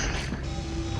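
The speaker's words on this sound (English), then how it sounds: "Reloading." Weapon reloading in the video game StarRupture: a short, loud run of mechanical clicks and ratcheting metal over steady game background noise, with no speech.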